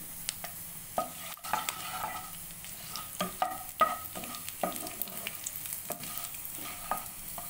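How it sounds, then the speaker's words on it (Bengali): Goose meat and small potatoes fry with cumin in a pan, a steady close sizzle broken by repeated scrapes and clicks of a spoon stirring through the food, with no voices. "ভাজা হচ্ছে, আমি এর মধ্যে একটু জিরাও দিব"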